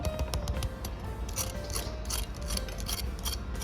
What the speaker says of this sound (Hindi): और ये बहुत क्रंची है